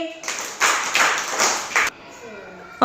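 Children clap together in a classroom, a few bursts of group clapping in quick succession, loud and close, with a voice briefly before and after.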